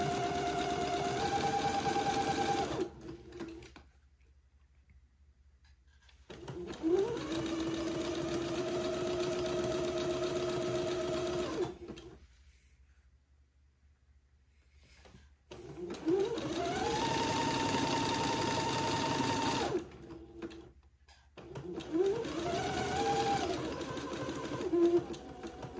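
A sewing machine sews insertion lace onto a baby daygown in three separate close, steady runs of motor hum, split by short quiet pauses.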